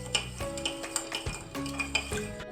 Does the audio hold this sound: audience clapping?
no